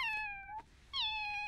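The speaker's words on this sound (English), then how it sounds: "Goddamn evil cat!" A cartoon cat gives two clear, drawn-out meows close by, separated by a brief pause, with no other sound around them.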